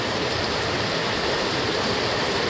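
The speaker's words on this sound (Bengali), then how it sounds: "মুষলধারে বৃষ্টি," Torrential rain pours down in a steady, dense roar of water, loud and unbroken throughout with no voices.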